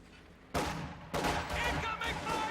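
Loud bursts of battlefield gunfire from a World War II strategy game, heavy rattling volleys starting abruptly and continuing in overlapping waves.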